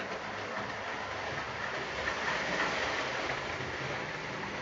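A Hornby model GWR County locomotive running along track gives a steady, even whirring rumble with a faint hiss, constant in loudness and heard alone.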